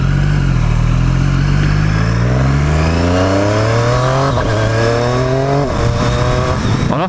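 A Triumph Street Triple 765 RS engine revving loudly and close, pitch climbing and falling through repeated throttle blips with a few sharp drops between rises.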